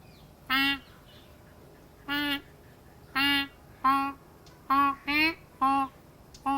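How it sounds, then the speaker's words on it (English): Ducks and geese, including a bar-headed goose, calling in a series of loud, harmonic honks and quacks, about eight separate calls spaced irregularly over several seconds, fairly close and with no talk. "duck's sound."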